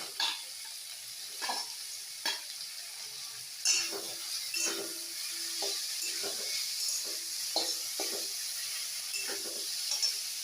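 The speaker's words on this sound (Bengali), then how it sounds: "চিকেন আর পেঁয়াজটা ভাজা হচ্ছে" Marinated chicken and onion fry in a pan, giving a constant bright sizzle broken by repeated scraping stirs at irregular intervals, close and moderately loud with no talking.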